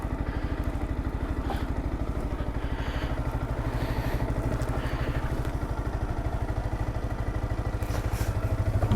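Motorcycle engine running steadily with a rapid, even low thump throughout, close and fairly loud, with faint clatter and no talk over it.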